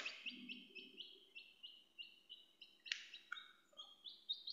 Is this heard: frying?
no